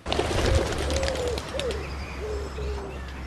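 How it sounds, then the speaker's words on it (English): Pigeons cooing outdoors, a series of soft, wavering coos repeated over a few seconds above a low rumble of background noise. "me personally, I'm not over keen on pigeons"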